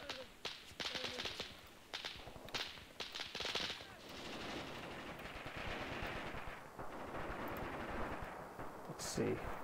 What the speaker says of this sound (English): Some return fire from the Soviets.